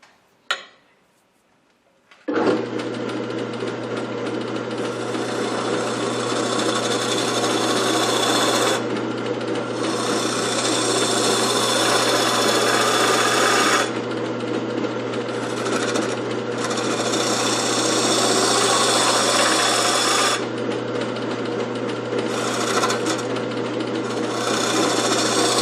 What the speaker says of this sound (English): It's a ring tool specifically for hollowing.